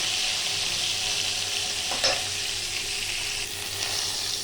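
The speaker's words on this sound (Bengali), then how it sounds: "একটু হলুদের গুঁড়ো, দিয়ে লাল করে ভেজে নেব।" Pointed gourd sizzles steadily in hot oil with turmeric, a close, even hiss that brightens into a short crackle about midway.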